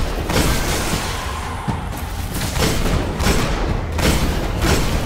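Dense, booming weapon fire in a Destiny firefight, several heavy shots and thuds over a constant roar of battle noise, loud and close throughout.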